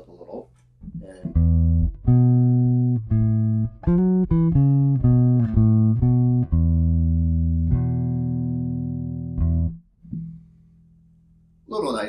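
A Spector NS Pulse 4 bass guitar with treble pulled back and bass boosted plays a clean, mellow line of distinct sustained notes, alone, ending on a long held note before brief talk.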